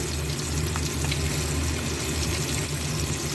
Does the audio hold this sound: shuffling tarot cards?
no